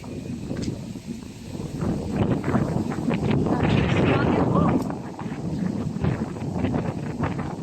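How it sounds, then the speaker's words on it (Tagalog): Strong wind buffeting the microphone in a continuous loud roar that swells in the middle, with faint voices underneath. "Lakas ng hangin."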